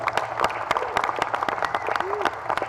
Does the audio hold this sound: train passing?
no